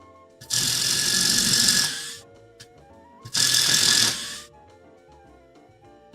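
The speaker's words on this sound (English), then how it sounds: "I'll be drilling 8 of these holes." A power drill bores through wood for a Japanese sawhorse in two loud, sustained whirring bursts of about one and a half seconds each, separated by a quiet pause, with no talking.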